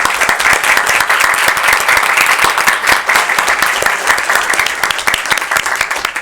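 A room full of people at a Beloit city council meeting applauds the staff with loud, steady, sustained clapping that carries on unbroken.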